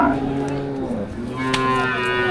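A dairy cow at an outdoor cattle market lets out a loud, close, drawn-out moo that rises and then holds, filling the short moment with no talk over it.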